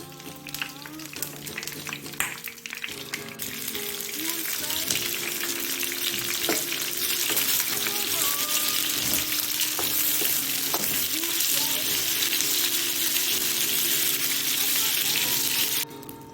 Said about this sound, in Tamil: இதை ஓரளவு எண்ணெயில் நல்லா ஓரளவு பொரித்து எடுத்துக்க போகிறேன்